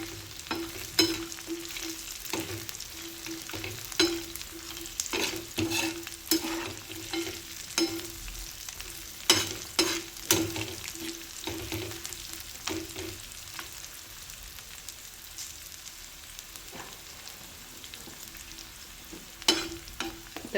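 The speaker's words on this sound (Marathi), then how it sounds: "इथे थोडेसे काजू टाकून घेत आहे मी. काजू पण यातच मस्त लाल करून घ्यायचे आहेत." Cashews fry in oil in a pan for a Maharashtrian kaju chicken masala. A steady sizzle runs under repeated stirring scrapes and clinks that come in irregular bursts, with no talking.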